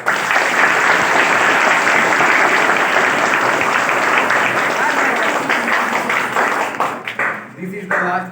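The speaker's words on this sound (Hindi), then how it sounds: "ताली नहीं बजाते तुम लोग।" Sustained audience applause at a school Constitution Day celebration, a loud dense wash of clapping that holds steady, then thins and breaks up near the end as a voice comes in.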